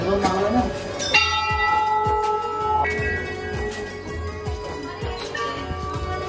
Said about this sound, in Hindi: यहाँ पे गुड्डू भाई को घंटी मिल गई है।